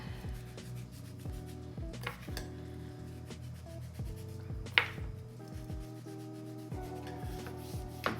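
Garlic seasoning being rubbed by hand onto salmon fillets, a soft scratchy friction sound with a few sharper taps, close and quiet over a steady low background hum.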